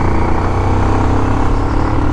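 A Bajaj Pulsar motorcycle pulls hard in fourth gear, its engine a loud, steady drone with a dense low rumble that holds even throughout, close up and with no talking over it.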